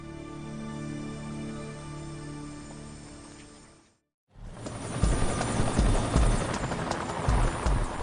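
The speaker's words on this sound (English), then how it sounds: "Miami-Dade police helicopters find the wreckage of Valujet Flight 592 in swampland" Miami-Dade police helicopters fly over Everglades swampland at an airliner crash site, their rotors thudding steadily. After a brief break the rotor chop returns louder and closer.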